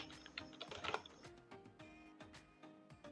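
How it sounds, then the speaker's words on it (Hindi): Typing on a computer keyboard while filling in an Excel invoice, a quiet run of irregular clicky keystrokes clustered in a short burst, then sparser taps, close and soft. "अब मैं यहाँ पे क्लिक करूँगा और यहाँ पे टाइप कर देता हूँ मैं"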